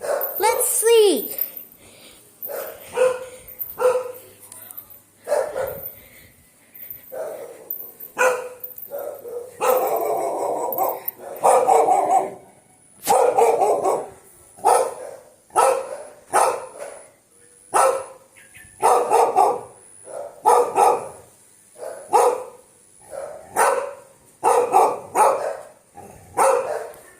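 Dogs bark repeatedly inside a house, sharp close barks in irregular bursts across the whole stretch, with people's voices mixed in.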